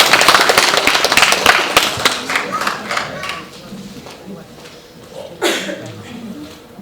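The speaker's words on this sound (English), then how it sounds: "let's give them all a round of applause" Applause from an audience at a stage event, dense clapping at first that thins and fades over several seconds, with one sharp louder burst near the end.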